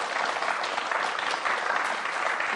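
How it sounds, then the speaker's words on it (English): Dense, steady applause from an audience at a calligraphy talk, filling the whole short stretch at an even level. "please give her a round of applause for that"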